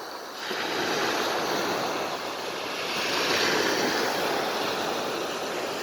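Sea waves at Wa Ko beach in Prachuap Khiri Khan, Thailand, on an overcast day, a continuous rushing surf with wind buffeting the microphone, swelling slightly midway, with no voices.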